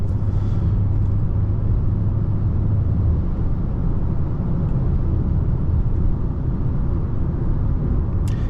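2025 Hyundai Sonata Hybrid driving, a loud steady low rumble of powertrain and road noise inside the car throughout, with no talking.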